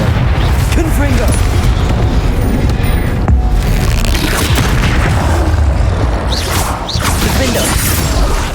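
Spell blasts such as Confringo and Incendio crackle and boom without pause in the video game Hogwarts Legacy, a loud dense barrage of magical explosions and whooshes.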